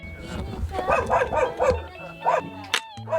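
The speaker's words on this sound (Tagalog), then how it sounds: "may aso dito" A dog barks several times in quick succession nearby, with people talking around it in the background.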